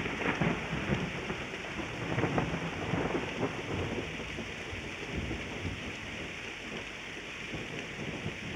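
Steady rainfall with low rumbles of thunder, a continuous dense patter that swells slightly and holds at moderate loudness throughout, with no voices.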